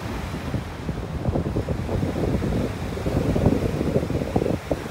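Strong wind on a beach in North Naples, Florida, roars steadily and loudly across the microphone, with surf mixed into the constant rushing noise and no voices.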